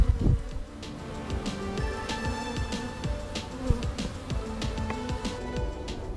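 A low, steady hum of many bees buzzing close by, with faint clicks and taps scattered throughout and no voices.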